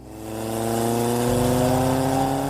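A motorcycle engine revs up hard as the throttle is twisted, a loud, close, rising mechanical whine with steady harmonics that builds and holds over a couple of seconds, no voices.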